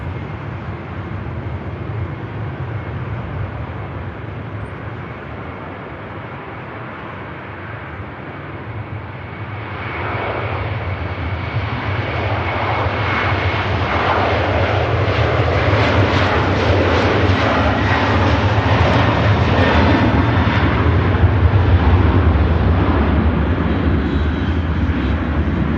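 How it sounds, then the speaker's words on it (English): An Aer Lingus Airbus A330 with CF6 engines begins its takeoff roll at Manchester Airport, the steady jet roar building into a loud, sustained thrust rumble with no talk over it. "As the Aer Lingus 330 begins the takeoff roll."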